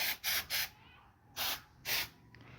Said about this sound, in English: I'm going to spray my table, this other table, the living room one